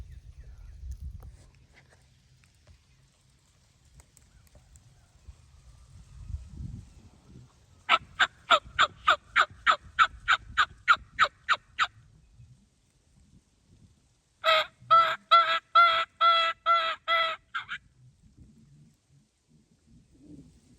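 A wild turkey in the field answers a mouth call with two rapid, loud series of gobbling bursts, about a dozen sharp pulses each, separated by a short pause over quiet outdoor background.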